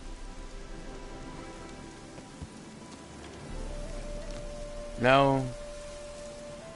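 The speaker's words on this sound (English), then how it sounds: "Looks like rain." Steady video game rain patters throughout, with a short louder burst of sound near the end and a faint voice in the background.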